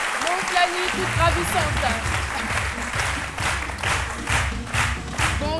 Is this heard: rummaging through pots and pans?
no